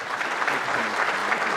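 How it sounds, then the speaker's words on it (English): A crowd at a policy forum on the South China Sea applauds warmly to welcome a congressional committee chairman, a continuous even wash of clapping throughout. "So with your warm applause"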